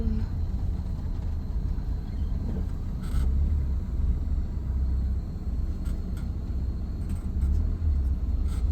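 Car driving uphill toward a temple, a continuous low engine rumble with road noise throughout and a few faint knocks and clicks, no talking.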